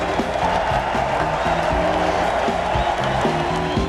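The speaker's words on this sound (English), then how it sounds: "he's getting a standing ovation now from this crowd" A baseball stadium crowd gives a standing ovation, a dense, steady wash of cheering and clapping that fills the whole clip with music-like tones running underneath.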